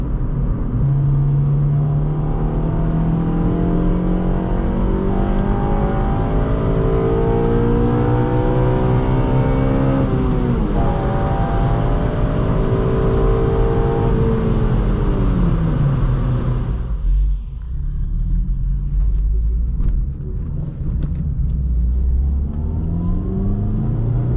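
A Honda K20Z3 engine in an 8th-generation Civic Si on RPF1 wheels revs hard through rising gear pulls as VTEC engages. The engine drone is loud and sustained, then eases off near the end.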